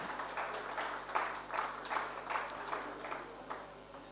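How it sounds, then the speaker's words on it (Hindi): An audience at a Hindi literary gathering gives a guest a round of applause. The clapping is moderately loud and arrives in uneven pulsing waves, with no voices over it. "एक बार जोरदार तालियां उनके सम्मान में बजा दीजिए"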